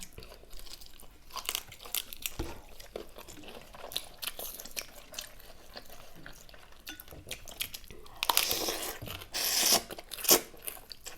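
Someone eats a big tray of spicy pounded squid and springy shrimp salad with fermented fish sauce, stink beans and rice noodles, chewing close to the mic with steady wet crunches and bites over about eleven seconds, with no talking.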